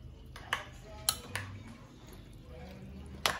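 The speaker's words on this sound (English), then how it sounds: "Once you go ahead and put the cilantro into it, you mix it up again." Pico de gallo salsa with cilantro being stirred in a bowl, with a few sharp utensil clinks against the dish among soft, wet mixing sounds, close and fairly quiet.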